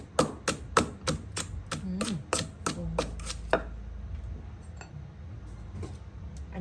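Chili and garlic pounded in a mortar for a Thai frog-and-eggplant dish, about ten sharp, evenly spaced thuds in quick succession, close and clear, then stopping, leaving quiet room tone.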